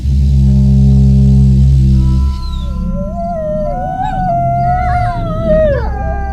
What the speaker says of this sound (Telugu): అంటే ఇది డాబర్ మ్యాన్ కుక్క?